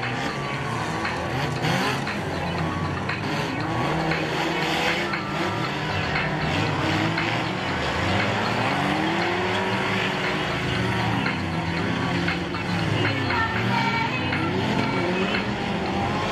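Stock car race cars drive around a track at a 2013 race meeting in Lapeyrouse-Mornay, their engines revving and roaring continuously with varying pitch and occasional tire squeal, while faint voices sit underneath.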